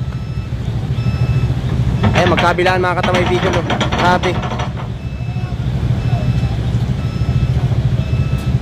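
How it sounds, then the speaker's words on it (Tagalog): Heavy road traffic crawling through the town of Lupi, Camarines Sur, past roadwork: a steady, loud low rumble of idling car and truck engines runs throughout, with faint thin beeps, while someone speaks over it in the middle. "napakatindi pa rin ang traffic dito sa bayan ng Lupi"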